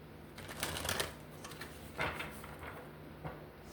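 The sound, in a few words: shuffling tarot cards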